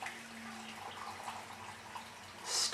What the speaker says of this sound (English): Hot water! You pour that about halfway.